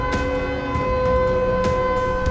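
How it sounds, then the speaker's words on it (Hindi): A steady warning siren drones on with sustained tones before the twin tower demolition blast in Sector 93A, Noida, joined by a few sharp broadband bursts, loud and continuous throughout. "नोएडा के सेक्टर 93A में सायरन की आवाज तेज होती चली गई।"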